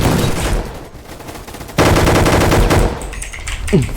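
Rapid automatic gunfire from a weapon in the Roblox game Gunfight Arena, loud and continuous with sustained bursts, ending in a short rising synthetic whoosh.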